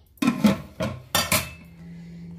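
A metal pot lid is set onto a pot of kachchi chicken biryani sealed with dough and tightened, giving several sharp clanks and clinks close by, followed by a faint hum.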